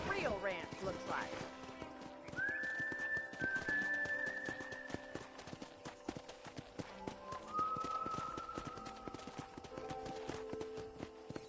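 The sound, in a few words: horse galloping in Red Dead Redemption video game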